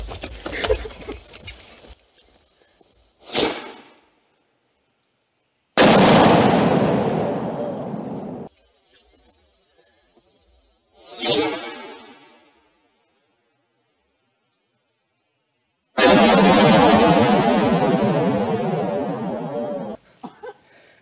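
A highly explosive firework launched outdoors: loud sharp bangs and booming bursts, each decaying into crackle and fizz, separated by stretches of near silence.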